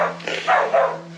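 A dog barks a few times in quick succession, fairly close, with a steady low electrical hum running underneath and no talk.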